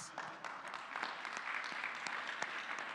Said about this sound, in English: I think Jamaica should get a round of applause.